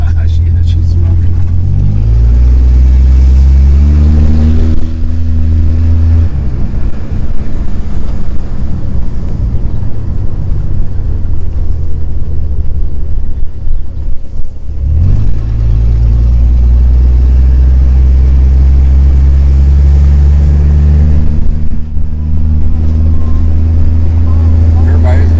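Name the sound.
1963 Ford Falcon Futura hardtop engine driving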